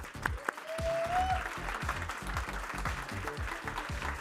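An audience at a BYU student innovation competition applauds the student teams, giving a few seconds of fairly quiet, continuous clapping from a modest crowd.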